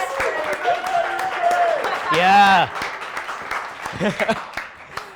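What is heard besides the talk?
audience applause for a birthday guest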